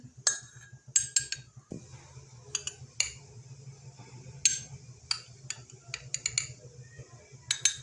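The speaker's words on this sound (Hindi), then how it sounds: "इसको आपने अच्छी तरह से मिक्स कर लेना है ताकि इसमें कोई गुठली बाकी ना रहे।" A spoon stirring custard powder into milk in a glass, clinking against the sides in quick irregular taps, close and fairly clear, with no talking.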